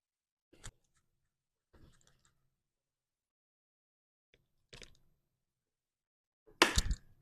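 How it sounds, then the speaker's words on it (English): Cutting a bone and a thin flap of meat off a rack of pork ribs with a knife, heard as a few sparse, close crunching cuts separated by silence, ending in a louder crack. "Usually I like to trim off this little short bone on the end here"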